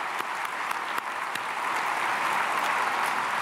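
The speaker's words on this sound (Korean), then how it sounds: "우리 교구 박수하겠습니다." A church congregation at an early-morning dawn prayer service claps together, steady applause filling the room with a few sharper individual claps standing out near the start.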